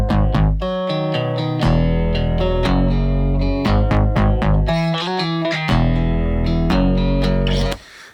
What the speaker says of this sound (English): Then I added my effects to it, distortion, kind of mixed it down, made it crunchier